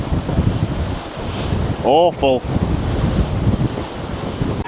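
Heavy high-tide surf and strong wind on the Blackpool seafront make a loud, continuous roar with wind buffeting the microphone; a brief voice and a short warbling tone break through partway.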